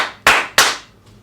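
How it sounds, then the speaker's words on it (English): Two loud, sharp hand claps about a third of a second apart, each ringing out with a short room echo, followed by a fainter third clap trailing off. "loud claps"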